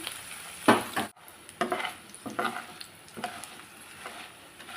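Okra (lady's finger) slices frying in oil on low heat until golden brown make a soft, continuous sizzle, punctuated by irregular scraping and stirring noises near the pan.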